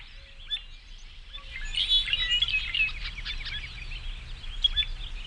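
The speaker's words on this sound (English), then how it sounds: "Birds are the first to respond to the coming of a new day." Many birds chirp and sing together at dawn in spring in the Fox River Valley, a dense chorus of overlapping calls that swells after the first second and keeps going steadily, with no voices.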